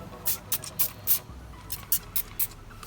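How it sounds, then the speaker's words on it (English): Waterless engine bay cleaner, a milky liquid, misted from a trigger spray bottle onto plastic engine bay parts in a series of short, close hissing bursts with brief pauses between them. "we're gonna go ahead and spray it"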